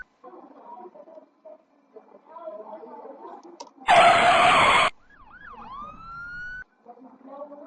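An ambulance siren effect in a Flash animation about a pedestrian-crossing accident: a brief loud broadband burst, then a rising-and-falling wail that sweeps up and holds, set among quieter clicks and low murmurs.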